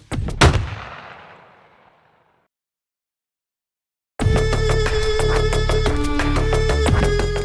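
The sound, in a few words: gunshot in video game Lousy Life Lessons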